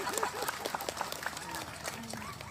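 A crowd at an Islamic public religious gathering celebrating a village anniversary in Cilacap applauds for santri, with brisk, dense clapping at moderate loudness and voices mixed in.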